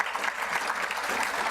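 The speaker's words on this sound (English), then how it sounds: "go ahead and clap there." Audience applause fills a hall at a county State of the Region address, a brief, steady burst of many hands clapping together.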